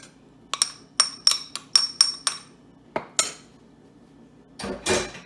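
Cheddar cheese cracker dough with flour, red chilli and salt is mixed in a bowl. Sharp clinks of a utensil striking the bowl come in a quick run of knocks, then two more and a softer shuffle. No voices.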